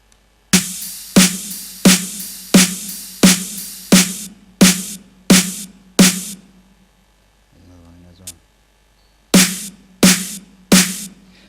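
A layered snare drum with cymbals: a rapid run of sharp, bright, crackling hits at a steady beat, a brief low muffled tone in a gap, then three more crisp snare-and-cymbal strikes, loud and close.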